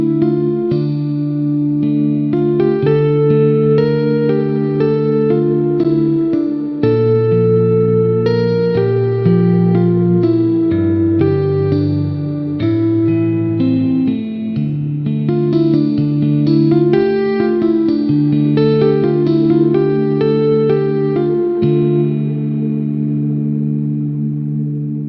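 Shimmer reverb on Fracture Sounds Hemisphere, a sampled guitar instrument, playing a slow minor-key passage: sustained chords with a moving melody on top, bright octave-up shimmer tails blooming above, loud and continuous throughout, ending on a long fading wash.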